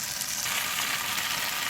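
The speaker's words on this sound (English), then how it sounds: "So I'm just going to keep frying it" Okra frying in a pan gives off a steady, dense sizzle that stays close and even throughout, with no talking over it.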